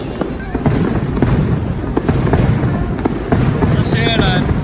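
New Year's Eve fireworks over Marina Bay Sands in Singapore burst in repeated sharp, booming cracks at a distance, with crowd noise and people talking over them and a whistling shell near the end.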